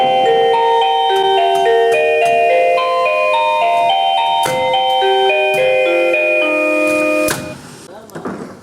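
A 1byone wireless door chime at a construction jobsite plays a long, bright multi-note melody of sustained ringing tones, loud and close, with a few faint knocks underneath before it fades at the end.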